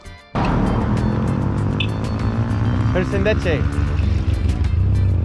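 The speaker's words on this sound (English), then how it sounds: "Just like Wisconsin, they ride four-wheelers out here." A four-wheeler ATV rides past in a farming village in Albania, its engine a loud, steady drone that swells and holds close by, with a voice speaking over it.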